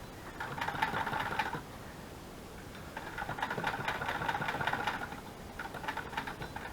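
A Singer sewing machine stitches fabric for a journal cover in rapid mechanical bursts, running about a second and a half, pausing, then running again for longer, close and moderately loud with no talking.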